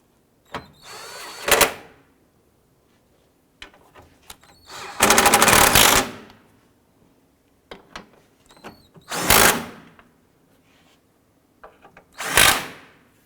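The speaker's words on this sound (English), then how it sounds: "I'm going to go ahead and snug these bolts down." Bolts snugged down on a 2004-2009 Dodge Durango bumper with a power tool, several short whirring bursts of about a second each, separated by pauses and faint clicks, close and fairly loud with no talk.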